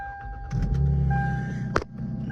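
1998 Lexus GS300 starting up: a brief starter whir rising into a steady low engine idle, with a high electronic chime tone running over it and a sharp click near the end, close and without talk.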